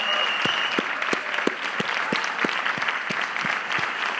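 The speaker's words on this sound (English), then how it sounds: "now join me, please, in giving the entire group a round of applause" An audience at a university Three Minute Thesis competition applauds a group of presenters with steady, dense clapping from a sizeable crowd, and a few sharper individual claps stand out near the front.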